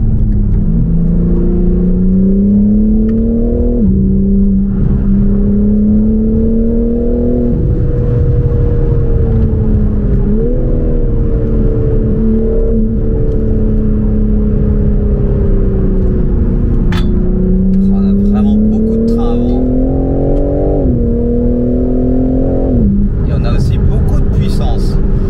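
A stage 2 tuned BMW M4 Competition G82 revs and accelerates up through the gears, its engine note climbing in pitch in several long pulls with brief drops at each shift, loud and steady from inside the car.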